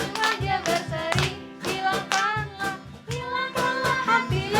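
Rhythmic hand clapping keeping the beat of a cheerful Indonesian Sunday school song, sharp claps landing steadily under children and adults singing.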